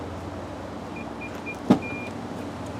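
An electric motor in the rear of a 2014 Infiniti QX80 folds the third-row seat with a steady, soft whir, broken by a single short clunk partway through, with no voices.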